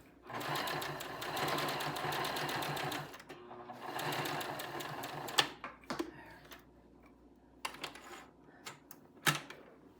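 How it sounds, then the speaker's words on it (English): A sewing machine stitches through flannel pants in two steady runs of rapid mechanical clatter, then stops; scattered clicks and handling follow, close and moderately quiet, with no talking. "So I'm just going to sew right through it."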